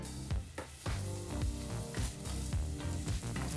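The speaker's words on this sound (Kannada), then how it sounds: "ಈ ರೀತಿ ಬಹಳ ಚಿಕ್ಕದಾಗಿ ಕಟ್ ಮಾಡಿದಂಥ ಒಂದು ಈರುಳ್ಳಿನ ಹಾಕಿ ಎರಡರಿಂದ ಮೂರು ನಿಮಿಷ ಮೀಡಿಯಂ ಫ್ಲೇಮ್ನಲ್ಲಿ ಈರುಳ್ಳಿನ ಫ್ರೈ ಮಾಡ್ಕೋಬೇಕಾಗತ್ತೆ" Finely chopped onion sizzles in hot oil with fennel and kasuri methi over a medium flame, a steady close frying hiss broken by repeated low thumps and scrapes of stirring, with no talking.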